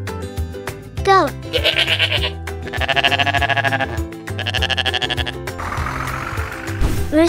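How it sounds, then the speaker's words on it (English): Several wavering bleats from a goat, loud and close, repeat over steady background music with no talking. "Goat."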